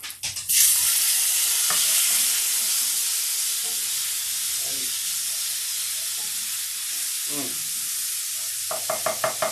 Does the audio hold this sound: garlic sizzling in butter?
yes